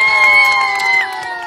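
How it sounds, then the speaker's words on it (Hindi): A game show crowd cheering in a loud burst of overlapping shouts and voices that eases off slightly toward the end. "तालियां तालियां"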